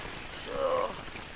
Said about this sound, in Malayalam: ഈ മഴ കണ്ടോ?